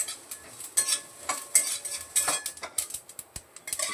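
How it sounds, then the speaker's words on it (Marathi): Sesame seeds roasting dry in a hot kadhai, crackling and popping in irregular bursts with scraping stirring, close and fairly loud, no talking. "आता तीळ नुसते एक अर्धा मिनिटवर परतायचे, लगेच काढून घ्यायचे"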